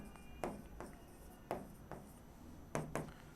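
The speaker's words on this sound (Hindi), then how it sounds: "मैं अलग कलर से लिखता हूँ यहाँ पे मीडियन के लिए" Handwriting in red marker or pen on a board while working out a median class in a maths lesson: a few short scratchy strokes at uneven intervals, close and fairly quiet, no talking.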